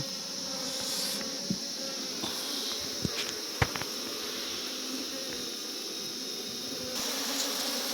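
Honeybees hum in a steady, close drone while a hive is split, with occasional small knocks and clicks from handling the frames, and no talk.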